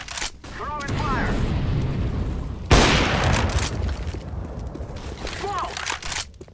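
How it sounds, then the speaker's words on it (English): A flashbang grenade goes off in a first-person shooter game, a sudden loud burst that stays up for a few seconds amid game noise and gunfire, while a player talks over it. "flashbang"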